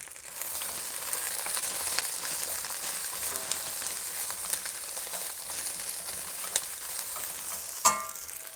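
Tofu and shishito peppers fry in a pan with a faint, steady sizzle and scattered crackles, plus one sharper clink near the end; no one speaks.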